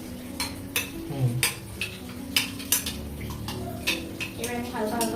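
A spoon stirring oil into a paneer tikka marinade in a bowl, irregular light clinks and scrapes against the dish at close range, with a voice talking quietly underneath.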